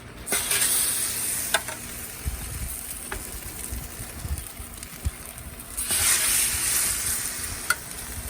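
French toast sizzles in butter and oil on a flat griddle, a steady close frying hiss that swells in bursts, with occasional clicks and scrapes and no talking.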